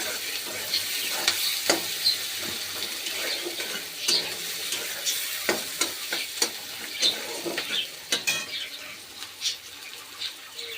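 Chopped onions fry in a pan with a steady close sizzle, broken by repeated scraping strokes of a spatula and occasional light clinks of a utensil against the metal, with no voices.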